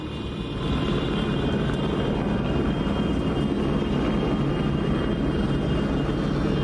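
A helicopter flies overhead at night in Los Angeles, giving a steady, loud low rotor and engine rumble that holds throughout with no break.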